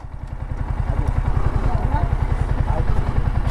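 Motorcycles ride toward a showroom, one engine thudding in a fast, even low pulse close by, with speech over the top.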